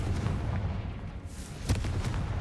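Confringo fire spell cast in the Hogwarts Legacy video game, heard as a sharp booming burst around the middle of the clip over a low rumbling game backdrop, with no talking.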